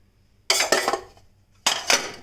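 A cooled pressure cooker being handled after cooking plantain, giving two bursts of metallic clanks and clatters separated by a short pause, close and fairly loud.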